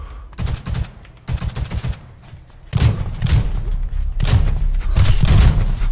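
Gunfire in the H1Z1 battle royale game comes in several bursts of rapid shots with heavy low thumps, separated by short quieter gaps and growing denser toward the end, close and loud.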